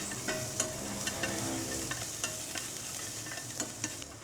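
Ginger and minced garlic fry in oil in a pan for Sichuan mapo tofu, a steady close sizzle with scattered sharp pops and crackles and no talking.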